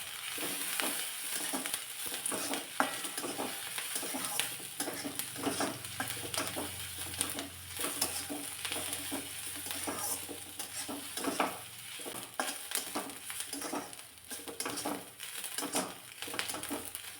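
Dry red chillies roast in a pan for a spicy chutney, with a steady close sizzle and frequent scraping stir strokes that continue throughout.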